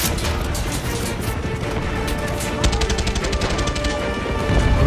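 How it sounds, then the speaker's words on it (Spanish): Mounted machine gun firing in Far Cry 6, long rapid bursts of loud automatic shots with a rhythmic rattle, close and continuous with no talk. "tengo que coger la ametralladora esa de ahí arriba"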